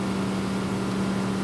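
A Sea Ray SDX 250 boat's stern drive engine cruises at 40 km/h and 3,650 RPM, giving off a steady, even drone with a low hum and broad wash underneath.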